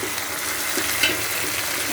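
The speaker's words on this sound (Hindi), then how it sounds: "मैं इसमें डाली हूँ टमाटर" Chopped tomatoes tipped into sizzling ginger-garlic paste in a hot pan for a Dogri-style dal, giving a steady, loud frying hiss with light stirring scrapes throughout.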